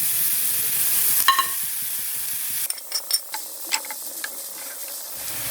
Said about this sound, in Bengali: বড়ি ফোড়ন থেকে খুব সুন্দর গন্ধ বেরোলে তখন এই পেঁপেগুলো এতে দিয়ে দেবেন।